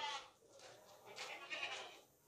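A broad-chested castrated male goat, over 45 kg and raised for Qurbani, bleats softly a few times in a quiet outdoor setting, sounding fairly distant and faint.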